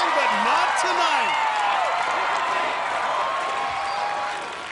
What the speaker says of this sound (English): And the crowd chanting her name.